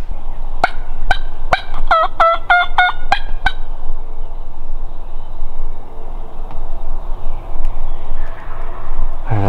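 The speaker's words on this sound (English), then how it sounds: "they just started getting fired up again, gobbling" Wild turkeys gobble in a quick burst of several rattling calls that overlap, sounding somewhat distant across open woodland, followed by quieter ambient outdoor noise with a few faint later calls.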